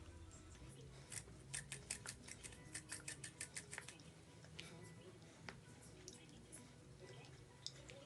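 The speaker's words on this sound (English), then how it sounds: "I should be doing some snipping. Okay. Snip, snip." Scissors snip through crochet braid hair close up, a quick run of crisp clicks followed by scattered single snips, quiet, with a voice speaking at times in between.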